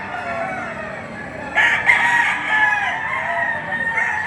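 Roosters at a livestock auction market in Padre Garcia, Batangas crow loudly and close by. A sharp crow breaks out partway through over a murmuring background of crowd noise and distant voices.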